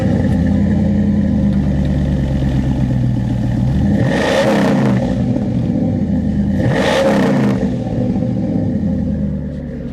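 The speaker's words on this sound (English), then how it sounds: "Nathan, let me rev it, so let's listen to it." A Dodge truck engine revs hard twice in close succession, each surge climbing and falling back over a steady, loud idle rumble with some clatter, close and with no talk.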